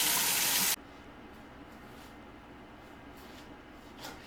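Hot tap water gushing into a kitchen sink while potatoes are scrubbed, a loud broadband rush for under a second, then cut to a quiet room with faint scrubbing and handling noises.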